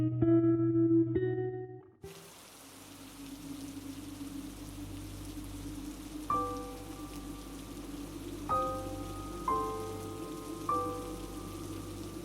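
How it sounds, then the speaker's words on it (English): Rain lashes against a window glass during a thunderstorm as a steady, soft hiss that begins after a short musical passage, with bright pinging tones ringing out over it at intervals and no audible thunder. "The rain lashed against the glass, thunder shaking the house."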